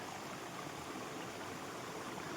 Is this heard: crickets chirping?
no